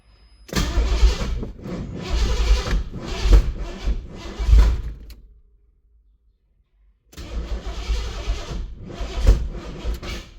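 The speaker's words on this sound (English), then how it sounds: "It's making funny noises when it does try to start." A car engine with suspected timing trouble cranks repeatedly, a loud rhythmic chugging starter in two long bursts separated by a pause of silence, without catching.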